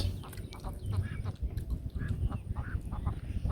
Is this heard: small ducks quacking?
yes